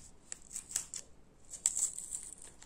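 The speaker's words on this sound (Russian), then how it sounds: "давайте откроем этот пакетик" Small plastic packet being torn open, a series of faint crisp rips and crinkles in short bursts, close and quiet against near silence.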